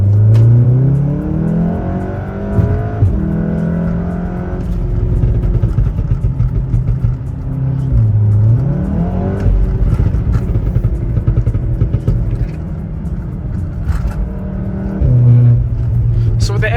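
VW Golf 7R engine accelerating on the road, with air suspension: a steady, loud engine drone that rises and falls through the gears. Someone talks over it throughout.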